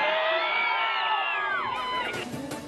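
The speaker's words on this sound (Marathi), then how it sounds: "यावेळी राजेंनी पुष्पा सिनेमातला डायलॉग म्हणताच त्यांच्या चाहत्यांनी एकच जल्लोष केला" Crowd of fans at a birthday event on a wrestling-school ground cheering and whooping, a loud sustained roar of many voices with shouts rising and falling, then scattered claps and calls toward the end.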